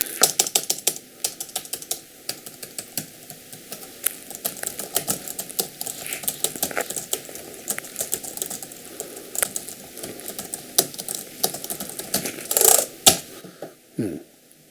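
Rapid clicky keystrokes on an Epomaker RT100 low-profile mechanical keyboard, irregular and continuous, close up, with a few louder clacks near the end.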